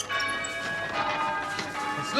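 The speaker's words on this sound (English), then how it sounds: "stop ringing the bells" Bright metallic church bell tones ring continuously, layered and sustained, with a faint murmur of voices underneath.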